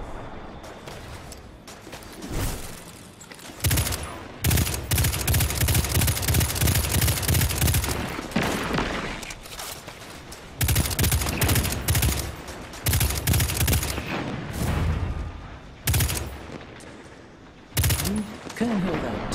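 Destiny 2 video game gunfire comes in loud, chattering bursts separated by short pauses, with some fainter shots and lulls between the volleys.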